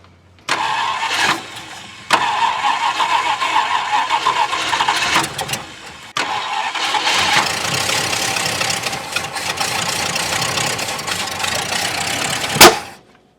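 A 1966 Ford wagon engine cranks with the throttle held open, catches and roars, then runs rough and loud with uneven firing before a sharp pop near the end.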